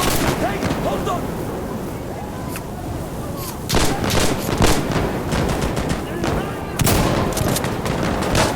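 Rapid gunfire from the video game Insurgency Sandstorm: bursts of automatic shots and heavier blasts, loud and close, grow denser partway through over a constant background of battle noise.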